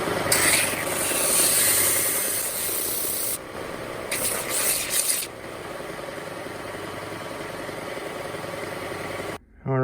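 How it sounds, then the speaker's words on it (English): Continuous abrasive rubbing as a wooden boomerang is sanded, loud and close, with a brief pause and a shift in texture partway through before it cuts off. "Now I'll go sand it."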